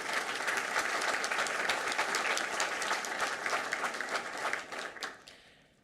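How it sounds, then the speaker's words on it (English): Sustained applause from the audience at a school board of education meeting, dense steady clapping that tapers off and fades out at the end. "Let's give him a round of applause for that."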